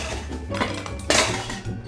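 A bag of pots and pans rattling in a comedic game scene: loud metallic clanks and clatter in a couple of sharp bursts over a steady jumble of cookware noise.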